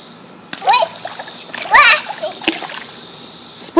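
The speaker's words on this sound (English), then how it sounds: "Splashing. Splishing and splashing?" Splashes and sloshing water up close, with a voice calling out between the bursts of splashing.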